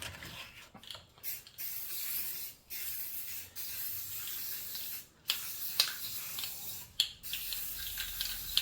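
Rust-Oleum flat black primer sprayed from a can onto a model starship, a steady hissing aerosol spray in several long bursts separated by short gaps and faint clicks.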